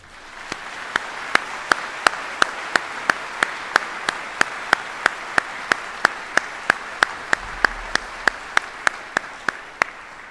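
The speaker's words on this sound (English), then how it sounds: "please join me in a round of applause for all of our families here today" At an Army retirement ceremony, sharp claps land in an even, steady rhythm, about two or three per second, over a soft background of crowd noise honoring soldiers' families.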